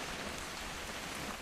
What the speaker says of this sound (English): It's going to rain the whole weekend,